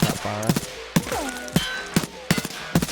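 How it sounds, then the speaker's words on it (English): An HK rifle in Escape from Tarkov is tap fired as six or seven sharp single shots spaced about half a second apart, each crack followed by a short ringing tail of metallic mechanical sounds. "So this is the HK. Tap firing."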